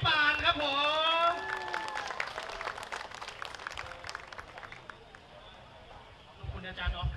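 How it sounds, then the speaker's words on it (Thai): Crowd clapping for a speaker at an outdoor pro-democracy rally at the city pillar shrine in Ubon Ratchathani. Dense applause of moderate loudness swells after a voice, lasts several seconds, then fades as speech resumes. "ขอเสียงปรบมือให้กับพี่ชายผมนะครับ"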